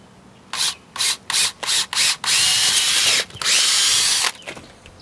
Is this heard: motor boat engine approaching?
no